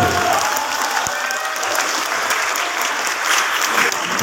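Steady, dense applause from an audience at the boys' final of a Fahmil Qur'an quiz during a provincial MTQ Quran competition, a continuous crowd clapping with no pauses, loud and close.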